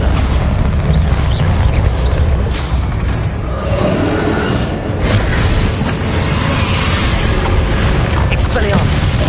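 Blasting spell explosions from the video game Hogwarts Legacy boom loudly and continuously over a dense, rumbling combat mix, with a voice speaking over the action.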